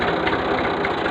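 A tractor engine drives a borewell pump pulley through a connecting shaft, giving a loud, steady, close mechanical drone with a rapid knocking pulse.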